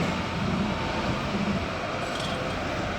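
Nottingham tram rolling over a track crossover, a steady low rumble with faint rail clatter and a brief metallic squeal near the end, heard alone.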